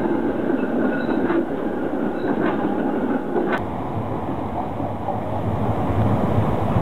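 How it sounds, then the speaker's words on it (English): Inside an Amsterdam city tram while riding, a steady loud rumble of wheels on rails comes with a few faint squeaks and a sharp click partway through. "We enjoyed riding the city's trams."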